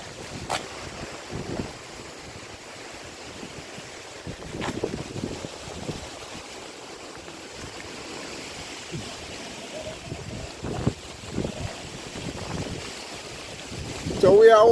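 Breeze gusting beside a river in a community hours before a hurricane, a faint, steady rush of wind with scattered thumps and handling noise, building to a louder burst at the very end.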